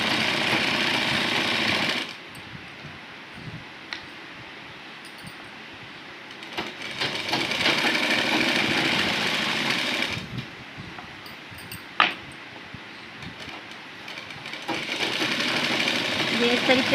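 A sewing machine runs in long bursts, stitching the seat seams of palazzo pants, loud and steady with quieter pauses between runs and a sharp click near the end; a voice speaks during the gaps.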